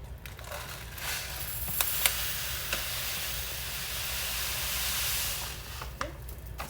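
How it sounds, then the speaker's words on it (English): Homemade elderberry syrup simmering in a pot gives a continuous steamy hiss and sizzle, with a few sharp crackles and pops scattered through. "you're just going to let it simmer"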